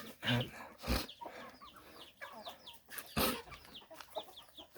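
A breeding hen of the Mae Saliang Roi line with a pea comb clucks in short, sharp bursts around a Thai chicken pen, with a few louder calls standing out and no talking.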